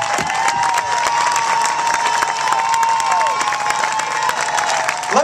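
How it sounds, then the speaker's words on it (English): A political gathering's audience applauds veterans with loud, dense, sustained clapping, cheering and crowd noise, with a whistle-like tone running through it. "I want every veteran to stand up, and I want all of us to applaud every veteran."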